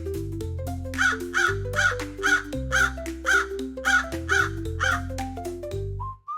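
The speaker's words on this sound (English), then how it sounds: "Here's a crow." A crow cawing repeatedly in a steady rhythm of loud harsh calls over a sustained musical backing.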